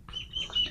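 A hen makes a few soft, high clucks and chirpy calls close by, faint and brief, kept as a household pet fed on grain.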